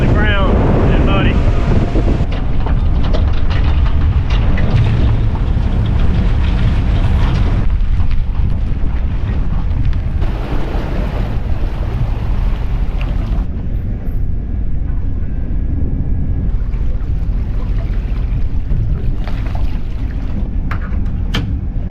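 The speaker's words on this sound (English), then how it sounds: "the wind is picking up and it's pretty choppy." Loud, constant wind buffets the microphone over choppy, muddy Gulf of Mexico water off Alabama, a heavy roaring rush with waves slapping throughout and no pauses.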